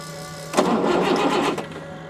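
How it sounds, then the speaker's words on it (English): A car engine that had been sold as inoperable cranks briefly, then catches with a short burst of noise about a second long before settling back under a steady background hum. "Give it a crank, see if it starts."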